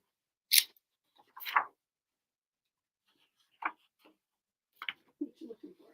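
A few short, crisp snips of scissors cutting paper, spaced apart with pauses between them, close by and fairly quiet.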